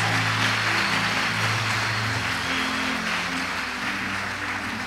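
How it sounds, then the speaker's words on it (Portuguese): A church congregation at a celebration service claps loudly and continuously, the applause mixed with sustained low musical tones. "Pode aplaudir o Senhor Jesus."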